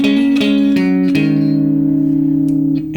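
Electric guitar plays a lick all together: a quick run of four plucked notes with hammer-ons and slides, the last held and ringing out for over a second before a faint final touch, played alone with no talk.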